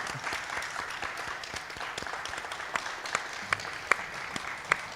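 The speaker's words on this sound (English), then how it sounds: "Give her a round of applause, if you will," Live audience at a community panel event breaks into a steady round of applause, dense clapping filling the room with a few sharper, louder claps standing out.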